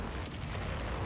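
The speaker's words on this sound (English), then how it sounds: "I want to say that's like Black Dragon artillery from heavy weapons" Artillery from a heavy weapons strike explodes in Company of Heroes on the Mignano Gap map, a dense, loud rumbling boom filling the short clip without pause.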